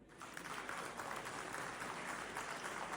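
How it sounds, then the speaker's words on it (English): Applause for the organizing secretaries at a Pakistan Pharmacists Association gathering, a steady, fairly quiet wash of clapping from an audience that holds evenly throughout without pause. "Let us all extend our heartfelt appreciation to them and well-deserved round of applause, please"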